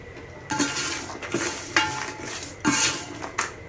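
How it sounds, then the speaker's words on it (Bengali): A spoon scrapes and knocks against a metal pan in several separate bursts while green and dried chillies are stirred. Dry clinks come close and fairly loud, with no talk. "এবার নাড়বো কাঁচা লঙ্কা দিয়ে দিচ্ছি এবার কয়েকটা শুকনো লঙ্কা দেবো"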